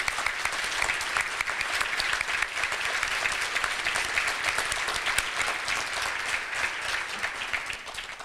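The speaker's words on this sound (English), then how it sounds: "Let's give a round of applause to these achievers, Taylor Sanders and Margaret Wakaba." An audience at a Rotary meeting breaks into sustained applause for student achievers, dense and even clapping that carries on for several seconds at close range without any speech.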